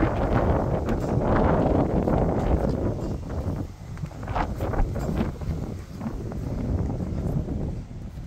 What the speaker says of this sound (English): This wind's not helping any.